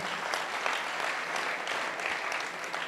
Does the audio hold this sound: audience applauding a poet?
yes